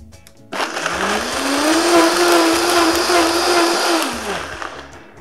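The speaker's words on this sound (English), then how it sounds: "we're going to go ahead and blend away here" A blender whirs up to full speed blending soursop and mango juice, its motor pitch climbing then holding steady in a loud, grinding roar before winding down near the end.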